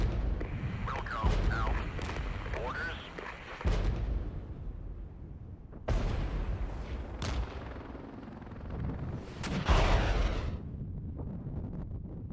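Apache helicopters in the strategy game Regiments fire Hellfire missiles at a dug-in unit, with a steady rotor roar under several sharp launch blasts and booming impacts spread through the scene.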